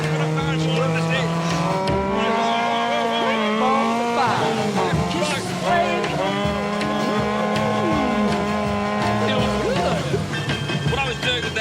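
A Vanwall racing car understeers under load, its engine note rising and falling loudly throughout while the tyres squeal in bending tones, with someone talking over it.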